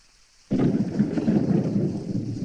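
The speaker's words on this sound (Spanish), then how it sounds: "¿Cómo llueve?" Steady heavy rain with a thunderstorm feel begins abruptly after a brief quiet moment, then sustains a dense, loud, continuous hiss and rumble with no talking.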